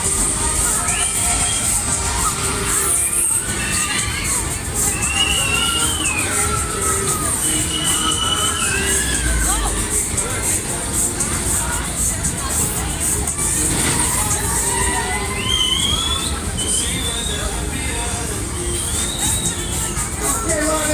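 A crowd shrieking and cheering on a Waltzer fairground ride over a loud, steady fairground din, with high screams rising and falling throughout.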